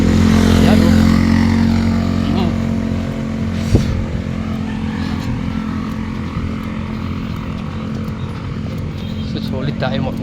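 Motorcycles run along Marilaque Highway in Tanay, Rizal, with a steady droning engine hum that swells and fades as they pass, heard under nearby talking.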